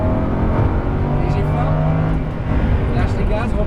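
A Lamborghini Huracan LP610-4 on a racing circuit pulls hard at full throttle, its engine a loud, steady, close roar with rising harmonic tones, while an instructor speaks over it from inside the car.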